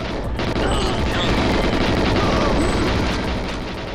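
Rapid gunfire from the GoldenEye 007 remake, a first-person shooter on PC, rattles continuously and loudly for the whole stretch, dense bursts and booms packed together with no pauses.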